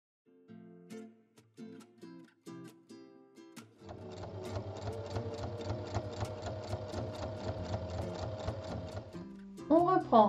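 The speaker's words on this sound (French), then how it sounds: "Et on pique de chaque côté." A sewing machine stitches along both sides of a fabric backpack, starting with a few short separate bursts and then running into a long, steady, close mechanical whir that ends in a brief voice.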